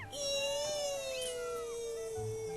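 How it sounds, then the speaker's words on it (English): Mia, a raccoon-like creature in The Legend of Zelda: Skyward Sword video game, gives a single drawn-out, high-pitched meow with a slight falling pitch, clear and fairly soft against quiet game sounds. "It's a monkey, cat, raccoon, red panda thing. It's a raccoon."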